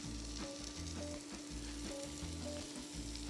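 Cremini and maitake mushrooms sizzle steadily in a hot pan, with faint stirring scrapes breaking up the constant frying hiss.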